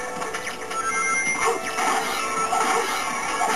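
Glass shields shatter in a Sonic video game, steady bursts of crashing, breaking glass and clattering effects running continuously at moderate loudness.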